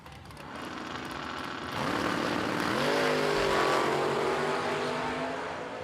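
A 1969 Camaro and another race car launch and accelerate hard down a drag strip, loud engine roar rising in pitch with a steady, continuous build and no talk over it.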